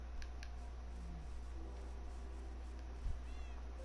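A striped cat in the video game Minecraft gives a couple of short, faint meows over a steady low hum of game ambience.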